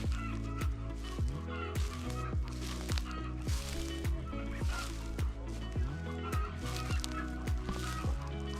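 Rhythmic, repeated clucking and honking from chickens, fairly busy and close, with splashy background noise throughout.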